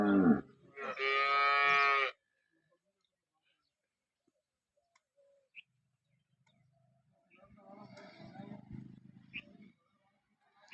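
A cow lets out a loud, drawn-out moo near the start, followed by quiet and then faint talking and rustling, on a dairy farm near Tharad, Gujarat.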